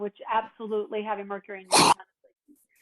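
Someone speaks, then one sharp, loud, close sneeze bursts out right after her words, followed by near silence.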